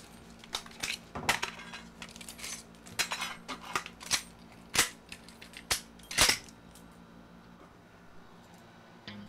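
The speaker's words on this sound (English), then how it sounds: "Een AK-47 demonteren met zijn ogen dicht." An AK-47 rifle taken apart by hand, with a series of sharp metallic clicks and clacks of parts being removed, some louder snaps, then quieter handling toward the end.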